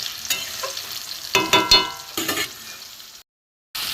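Ridge gourd and spices being stirred and fried in a pan: a steady sizzle broken by clustered scraping strokes of the spatula, close and fairly loud, with a brief drop to silence near the end.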